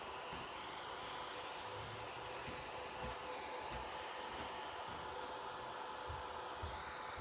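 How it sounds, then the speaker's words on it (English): A small electric fan runs steadily close by to dry watercolor paint on a chameleon painting, giving a constant soft whirring hiss with no talk over it. "I had the little fan so I can dry this so we can trek on along"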